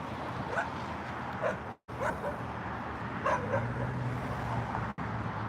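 Lois, a small but strong dog, gives a few yips and whimpering barks over a steady low background hum, with the sound cutting out briefly twice.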